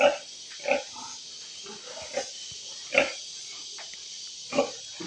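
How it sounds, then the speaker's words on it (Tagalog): Two breeding boars grunt at close range, short deep snorting grunts coming every second or so over a soft background hiss, without any talking. "Dalawang barako po yun nandito."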